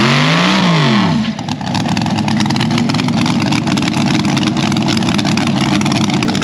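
A pink altered dragster launches on a full drag strip pass: a brief rising engine rev, then a loud, sustained, harsh roar that stays close and steady to the end, with no talk.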